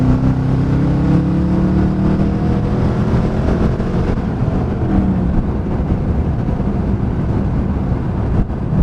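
A Dodge Charger in automatic mode downshifts and accelerates, its engine note rising in pitch at first and then holding a loud, steady roar mixed with wind rush from inside the car.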